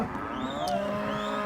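Crossbred cows in tight pens moo loudly and continuously, overlapping low bellows close by with a steady ranch background and no talking.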